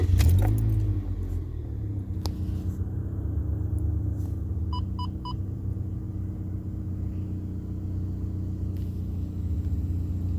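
Toyota Yaris with a 1ZZ engine idling after a throttle body fix, a quiet, steady low rumble with a brief louder burst at the start and a few faint jingling clicks along the way.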